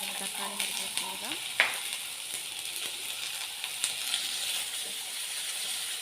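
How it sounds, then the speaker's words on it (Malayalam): Tomato and green chili fry in a pan with a steady soft sizzle, broken by an occasional scrape or clink of the stirring spoon, quiet and close with no voices. "തക്കാളി ചേർത്ത് നന്നായിട്ട് ഇളക്കിയെടുക്കാം."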